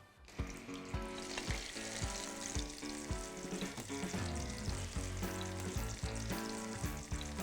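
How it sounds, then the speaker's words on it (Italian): Fritters of stale bread and cheese fry in hot oil, giving a steady, dense sizzle and crackle close by, broken by small sharp pops, with no talking. "Posso friggere."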